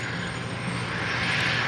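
A heavy airliner at LAX gives off a loud, steady jet engine roar with a broad rushing hiss, close and constant throughout, with no talking.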